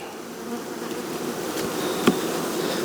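Honeybee foragers buzz around a hive in an apiary, a continuous close insect drone with a brief sharper flyby partway through.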